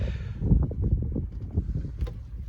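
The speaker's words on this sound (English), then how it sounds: "So it's a little bit windy, so hopefully you can still hear me relatively well." Gusty wind buffets the microphone with a heavy low rumble, steady throughout with small surges, and no talking, outdoors at a waterside marina beside a houseboat.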